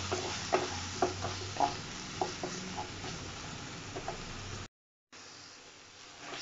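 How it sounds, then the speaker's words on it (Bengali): Tomato paste and ginger-garlic paste sizzle in a frying pan as a utensil stirs them, with soft scraping taps over a steady hiss and a brief silent gap near the end. "এর মধ্যে আমি দিয়ে দেবো 1 টেবিল চামচ টমেটো বাটা, আর দিয়ে দেবো 1 টেবিল চামচ আদা রসুন বাটা, দিয়ে এবার ভালো করে মিক্স করে নেব"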